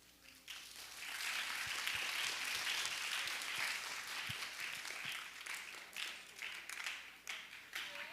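Sustained applause from a student audience honoring alum Rosie Jon after her alumni presentation, steady dense clapping throughout with scattered sharper claps and a faint voice briefly in the mix.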